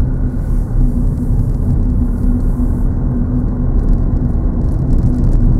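Steady, loud engine and road rumble from a car being driven during a driving lesson, heard from inside the cabin with a constant low hum throughout.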